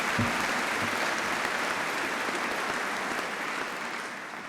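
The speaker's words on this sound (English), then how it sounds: "Give her another round of applause." Steady applause from a sizable crowd at a Birmingham City University graduation ceremony, dense and sustained, fading slightly toward the end.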